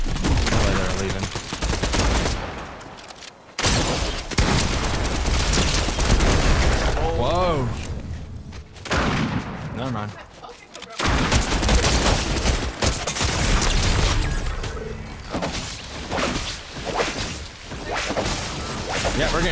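Rapid video game gunfire crackles in dense bursts through most of the stretch, with sharp impacts and a brief lull, while players talk over it throughout.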